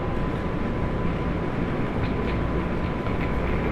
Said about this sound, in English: This is one of the most iconic train station in New York City.